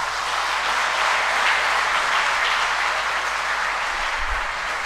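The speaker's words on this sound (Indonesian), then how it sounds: "tepuk tangan untuk beliau." Steady audience applause fills the hall at a formal Indonesian gathering, an even, sustained patter of many hands clapping at moderate volume without interruption.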